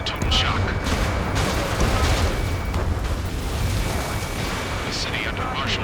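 Loud, dense roar of heavy rumbling and booming blasts with crackling bursts, continuous throughout, gunfire and jet noise echoing through city streets in the video game Ace Combat 7: Skies Unknown.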